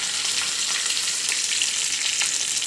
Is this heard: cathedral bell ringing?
no